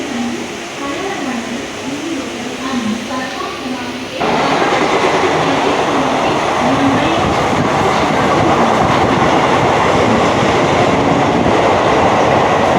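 A Mumbai local train runs through Nahur station, a loud, steady rumble and rattle of carriages on rails that surges abruptly after a few seconds of quieter running with a wavering tonal whine, heard from inside the moving train.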